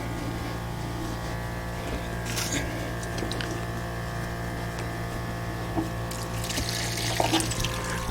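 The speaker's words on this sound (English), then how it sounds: "I'm going to whip the drain pipe out and see if I can stuff the air hose in there before it all drains out" Water rushes steadily from a water heater drain pipe during a vinegar flush, a continuous splashing flow that swells with brief gurgles toward the end.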